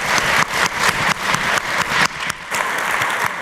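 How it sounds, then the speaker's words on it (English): A conference audience applauds a judge walking on stage at an entrepreneurship competition, a dense, loud, steady round of clapping with a rhythmic pulse, close and continuous throughout. "you can give him a round of applause as he comes on stage"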